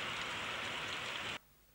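Steady, dense rain pours down during a heavy monsoon downpour, a loud, even wash of drops that cuts off abruptly near the end, leaving only faint background.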